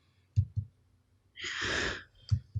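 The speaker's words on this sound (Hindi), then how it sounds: "ये सांस लिया था मैंने, उसकी आवाज़ आ गई है।" A soft, breathy intake of air close to the microphone, bracketed by a few quiet clicks and thumps.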